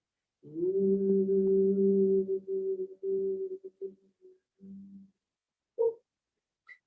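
A person hums on a long exhale in a chair yoga breathing exercise, imitating a bumblebee: a steady, close, sustained voiced drone lasting several seconds, then breaking into shorter hummed pulses as the breath runs out.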